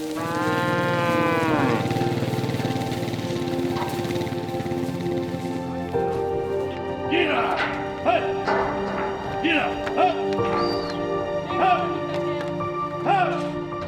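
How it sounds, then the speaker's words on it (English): Dairy cows mooing in dusty stockyards as they are loaded onto the back of B-double trucks, with long loud moos up front and shorter calls repeating later over shuffling and clatter. "the cows make their way onto the back of the B-double trucks"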